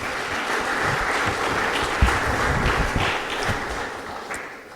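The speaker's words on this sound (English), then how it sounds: "let's give them a round of applause as well" Audience applause during a city's State of the City address, a steady wash of many hands clapping that holds evenly and tapers slightly toward the end.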